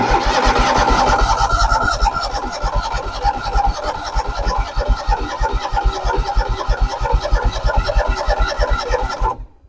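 Engine of a 1979 Cub Cadet tractor fitted with a snow thrower cranking without starting, a loud rapid rhythmic chugging from the starter that runs continuously for nearly ten seconds before cutting off, close up with no talking.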